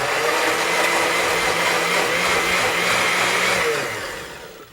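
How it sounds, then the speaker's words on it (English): A kitchen blender whirs steadily, blending scooped tomato insides into a sauce for an Indian dish, a loud continuous motor drone that holds even for about four seconds before winding down. "Firstly, let's blend it all up."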